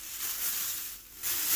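A plastic bag is handled in a kitchen while marinating trout, giving a soft, continuous crinkling rustle that dips briefly and then swells again, close and without talk.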